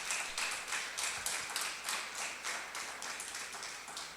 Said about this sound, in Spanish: Vamos a dar un fuerte aplauso a ellos en nombre del Señor Jesucristo, a nuestros hermanos.